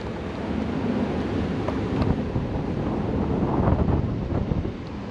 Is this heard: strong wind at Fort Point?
yes